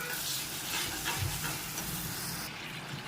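Fish frying in a spiced onion masala gives off a dense, steady sizzle and hiss, close and continuous with slight stirring movement.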